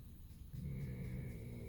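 A sleeping dog gives a low, rumbling, growl-like snore close by. It starts faint and swells into a steady, louder rasp through the rest of the clip.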